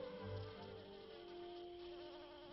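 Bees buzzing around an orchid's flower trap, a steady nearby insect drone with a low wingbeat hum and wavering tones, faint and continuous.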